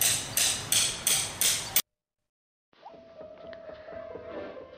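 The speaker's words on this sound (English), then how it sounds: "insert potential spike and current spike into the ground with the help of a hammer" Hammer driving metal spikes into the ground, four sharp, evenly spaced strikes, loud and close, followed by silence and a faint electronic tone.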